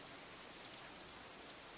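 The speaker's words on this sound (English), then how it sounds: "The rest of my voice is completely drowned out by an even heavier burst of rain." Heavy rain in the visual novel game Katawa Shoujo, a faint, steady wash of downpour hiss with soft scattered drops and no other sounds.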